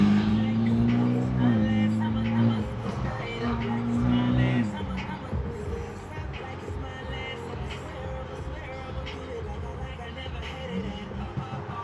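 Straight-piped BMW F30 328i with a stage 2+ exhaust cruising on a highway, its engine drone rising and falling through gear changes inside the cabin, with road roar throughout.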